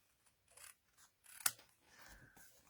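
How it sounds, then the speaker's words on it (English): Metal snips make a single crisp cut through cardstock at a paper-crafting table, a sharp snap framed by soft rustling and handling of paper. "And we'll take our snips. Let's cut this off."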